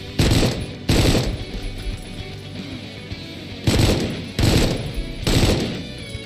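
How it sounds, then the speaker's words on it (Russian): Gunfire in the retro shooter video game Supplice comes in loud, close bursts of rapid shots, with several volleys separated by short pauses over a rumbling background. "Кто-то стреляет, слышишь?"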